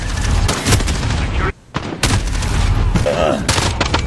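Loud, close gunfire in a video game, in rapid bursts of booming shots broken by a brief pause, with players talking over it.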